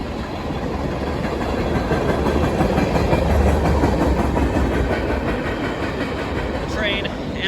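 A freight train in Utah's Weber and Echo Canyons rumbles past in winter rain, a loud, steady roll with rhythmic clatter of wheels on rail, and a brief high squeal near the end.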